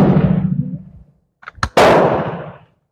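An M44 Romanian Mosin Nagant rifle fires one loud, sharp shot that cracks out of near silence and decays with a long echoing tail, preceded by a fading roar and a few small clicks.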